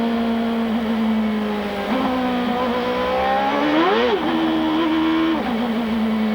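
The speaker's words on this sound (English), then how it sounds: "You could hear Jimmy Vasser just spinning the rear wheels on his car." A 1998 IndyCar race car, on track during the Marlboro 500, spins its rear wheels: a loud, close engine drone rises and falls in pitch, surging sharply near the middle before settling back.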